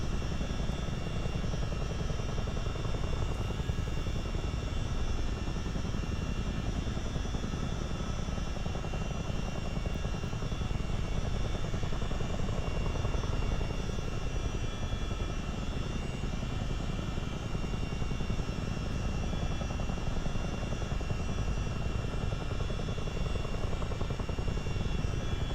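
CH-47 Chinook twin-rotor helicopter heard from inside during low-level flight, a steady loud drone of engines and rotors with deep low rumble and whine, unbroken and constant throughout.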